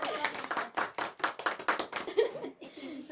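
Rapid rhythmic hand claps, loud and close, repeating in quick bursts with children's voices and a laugh mixed in.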